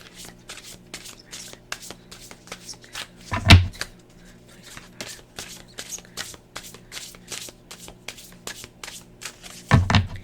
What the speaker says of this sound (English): So I'm going to pull the Cosmic Oracle cards because we're looking at a general 2025.